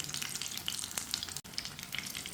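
Potato nuggets fry in a pan with a soft, continuous sizzle and scattered crackles, quiet and close, broken only by one brief dropout.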